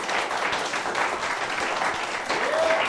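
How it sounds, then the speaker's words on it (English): A live studio audience gives a steady round of applause, dense clapping sustained evenly for a few seconds, with faint voices underneath. "So give a round of applause to New Blake."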